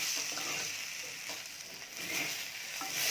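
Raw banana poriyal sautéed with masala in a pan, a soft steady sizzle with light stirring scrapes, quiet and close, with no talking.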